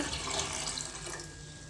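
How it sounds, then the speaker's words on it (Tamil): Water is poured from a mug into a pot on a stove, a continuous splashing, faucet-like stream, steady and close, lasting under two seconds with no talk. "இப்போ நம்ம அடுப்பில் ஒரு பாத்திரம் வச்சு ரெண்டு சொம்பு தண்ணி ஊற்றிக்கிறேன்"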